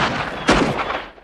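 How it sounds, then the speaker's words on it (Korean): A single sharp gunshot sounds in a family adventure film, a loud abrupt crack midway through with a short decaying tail, set against a steady background. "총성 같은 게 들리고"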